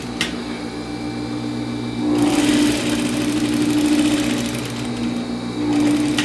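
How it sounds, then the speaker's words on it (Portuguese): A sewing machine runs a steady stitching seam along a folded fabric edge on a double-faced coat, its whirring motor loud and continuous, rising in intensity partway through, with no talking. "Vou passar a costura aqui na beirada"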